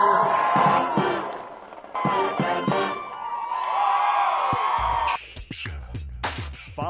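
A crowd at a pep rally for a Missouri team honoring its seniors cheers and shouts loudly in long swelling bursts, and scattered claps and whoops come at the end.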